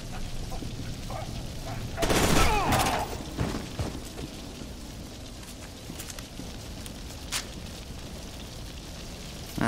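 Grenade blasts and gunfire in the first-person shooter F.E.A.R. 2: Project Origin, with one loud burst standing out and sporadic shots scattered through rumbling game background.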